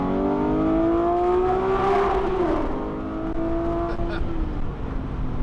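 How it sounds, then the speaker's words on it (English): A Porsche 911 Speedster's exhaust sounds out while driving through a tunnel, a loud, echoing engine note with a rising then settling pitch across a gear change, heard from inside the car. "the number one thing that I mentioned on this car that's unique and special has to be this exhaust"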